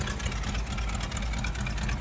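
Dodge with a 440 V8 idling steadily up close, a dense continuous rumble with even level and no talk over it.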